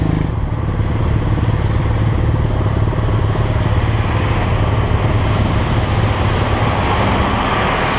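A 125cc motorcycle engine idles during a roadside traffic stop, a steady, fairly loud low drone with traffic noise around it and no talking.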